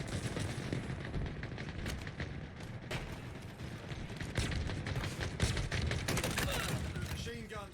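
Machine gun fire in Halo Infinite during a Big Team Battle match rattles in dense, continuous bursts, layered with other gunfire and explosions in a loud, busy mix.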